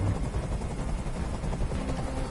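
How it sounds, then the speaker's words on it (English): A continuous, rumbling helicopter rotor drone in the video game Detroit: Become Human, steady and fairly close, with no voices over it. "Tell that helicopter to get out of here."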